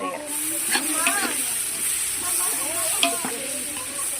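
Ginger garlic paste sizzles in a pan for chicken curry, a steady close hiss with a few sharp stirring clicks, while a voice talks over it throughout.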